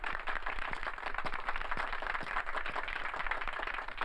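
Hands clap at a Hindi comedy show, a modest, somewhat thin patter of audience clapping with a few sharper individual claps standing out, heard alone without talk.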